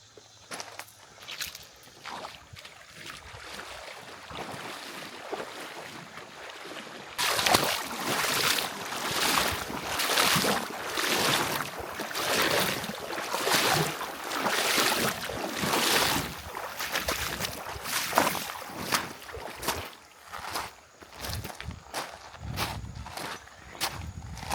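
Boots wading across a wide, shallow creek on a summer hike in the Ozark forest, with steady rhythmic splashing and sloshing of water close by that continues for most of the crossing.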